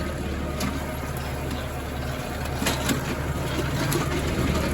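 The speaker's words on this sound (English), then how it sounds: "Tedder's just grabbing it nicely, flipping them over, able to hit 2 rows at once" A tractor pulling a hay tedder across a field, flipping two dried windrows at once, makes a steady engine drone with faint intermittent rattling from the tines, and a voice talks over it in places.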